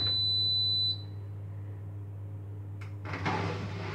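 A Hotpoint Extra 9kg washing machine starts its auto clean cycle: a steady electronic tone, then a low hum with a click and a rising mechanical whirr and rush as the drum kicks in, close by, with no speech.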